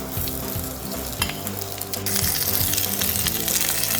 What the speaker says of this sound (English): and in come our onions.